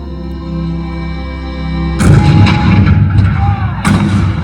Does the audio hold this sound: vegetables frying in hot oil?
no